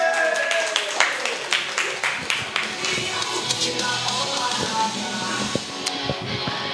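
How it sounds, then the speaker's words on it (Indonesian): An audience at an Indonesian stand-up comedy show applauds comedian Eki with a dense spread of claps, loud at first then thinning, mixed with crowd murmur. "Boleh tepuk tangan untuk Eki"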